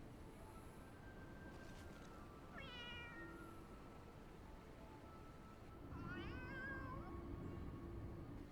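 Two distinct cat meows from a creature in Final Fantasy XIV, the first around three seconds and a longer, wavering one near six seconds, over quiet game ambience with a faint background hum.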